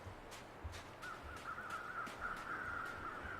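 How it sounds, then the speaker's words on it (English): Crows cawing in the wilderness survival game The Long Dark, a quick series of harsh caws repeating at a steady pace, fairly distant and faint over a quiet background. "So I can hear birds."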